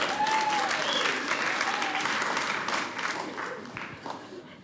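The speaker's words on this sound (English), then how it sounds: "Round of applause for yourselves." Loud, dense applause from a comedy show crowd, sustained at first and then gradually thinning and fading, with a few voices and whoops mixed into the clapping.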